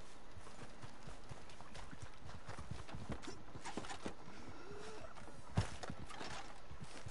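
Horse hooves in Red Dead Online clip-clop over the ground amid a dense, busy ambient bed, the hoofbeats soft and irregular with one sharper thud near the end, and no talking.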